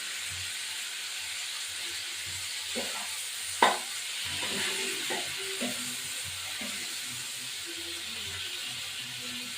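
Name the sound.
chopped tomatoes added to frying prawn dish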